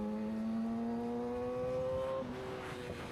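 Yamaha R6 motorcycle accelerating hard from a standstill, a high engine whine climbing in pitch through the gears with a brief dip at a shift, steady and prominent over wind rush.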